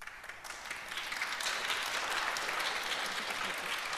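An audience applauds a political speaker, a dense wash of clapping that swells after the first second and holds steady at moderate loudness.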